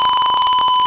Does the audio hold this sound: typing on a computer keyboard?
no